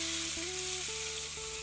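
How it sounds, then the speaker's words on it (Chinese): Hot oil poured over a bowl of plain flour, salt and five-spice powder sizzles loudly and steadily, with a faint tonal hum underneath. "再倒入50克热油。"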